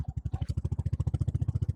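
Motorcycle engine revving hard as the bike climbs a steep, muddy off-road hill track, a close, loud and steady pulsing thrum with no pauses.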